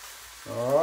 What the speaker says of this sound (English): Dump your mince in.